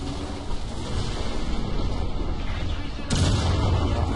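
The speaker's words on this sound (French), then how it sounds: "Donc là vous voyez où j'ai tiré." Tank cannon fire from War Thunder: a heavy, sudden boom lands late in the clip over a steady rumbling game background of engine and battle noise.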